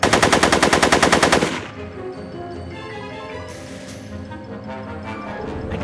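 Rapid machine-gun fire in the video game Back to the Future: The Game, a loud close burst of about twenty evenly spaced shots over a second and a half, then stopping and giving way to quieter background game sound.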